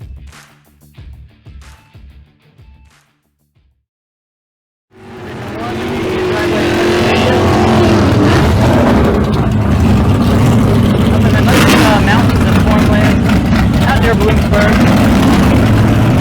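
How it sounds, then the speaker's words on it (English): At a dragway, Stock Eliminator drag cars in qualifying build from a distant drone into a loud, sustained engine roar that fills the track after a brief quiet gap, while people talk earlier in the recording. "Stock Eliminator is running qualifying section number 1."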